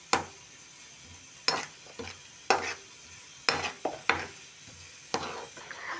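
Spices with coriander and cumin powder roasting in a pan, soft background sizzle broken by repeated sharp scraping strokes of a spoon every second or so, close up.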